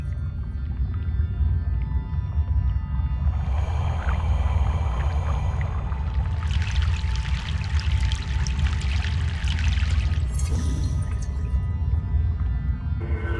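A boat crosses a river in Broken Sword: The Sleeping Dragon, a steady rumbling drone of water and hull running throughout, with a brighter splashing rush swelling in the middle and fading near the end; no talking.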